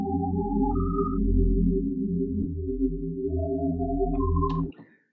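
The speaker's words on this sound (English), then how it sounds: "the reverb is really like what causes that really, really nice swell." A synthesized pad of detuned sine waves in unison from the Sytrus synth, with reverb swelling the sound: sustained low tones under shifting higher notes, loud and smooth, then a sudden cutoff near the end.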